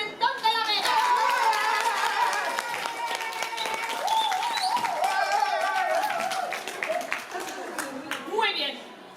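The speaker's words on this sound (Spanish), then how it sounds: "Y por último, aplausos para el pimentón de la Vera." An audience applauds loudly and steadily at a theatrical food event in Spain, with the clapping holding for several seconds and a voice speaking under it before it tapers off.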